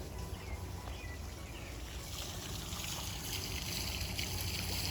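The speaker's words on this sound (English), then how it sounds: "the sound of this old stone mill water fountain is really nice" Water trickles and splashes continuously from an old stone mill fountain in a botanical garden, a soft, even babble with faint birdsong in the background.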